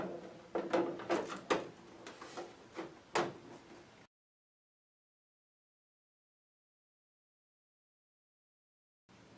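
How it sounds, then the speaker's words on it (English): The plastic filter door of an H2 water ionizer is fitted back in place, tabs into slots, giving a few sharp clicks and knocks over four seconds, then silence. "reinstall your filter door by matching the tabs with the slots"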